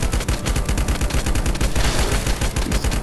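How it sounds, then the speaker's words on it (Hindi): Rapid automatic fire from an ice-themed collector edition submachine gun in the video game Life after Death: a dense, loud, continuous stream of sharp shots with no pauses. "मैं अपना सब machine gun collector edition ice वाला निकाल लिया"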